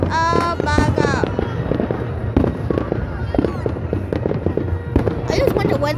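Bonfire night fireworks burst in a rapid series of loud cracks and booms, some with whistling rises, close by, while people shout and exclaim over them.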